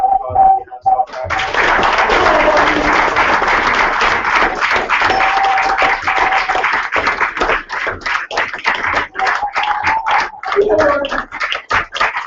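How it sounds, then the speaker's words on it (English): A round of applause from an event audience swells after a brief opening, dense clapping holding steady for about ten seconds with some voices mixed in. "I want to give a big round of applause"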